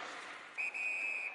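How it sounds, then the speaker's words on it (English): A referee's whistle in the NHL 19 hockey video game shrills for an offside, a short blast broken by a brief gap and then held for about half a second over faint arena crowd noise. "Whistle blown for an offside."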